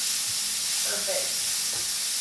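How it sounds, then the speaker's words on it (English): Kimchi, minced garlic and rice sautéing together in a pan, a brief burst of steady close hissing sizzle with faint stirring movement. "We'll saute all of that together and then add the rice."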